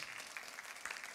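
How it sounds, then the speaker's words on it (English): Congregation clapping hands in praise inside a church service, a dense, steady burst of applause with a few louder claps, fairly distant and continuous throughout. "Somebody give the Lord a hand clap of praise in this house for that."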